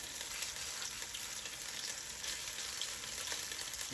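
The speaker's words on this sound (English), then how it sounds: "we're going to go ahead and cook them until they brown on the bottom" Potato pancakes made from leftover mashed potatoes frying in a pan, a continuous bright crackling sizzle heard close and steady on its own, with no talking.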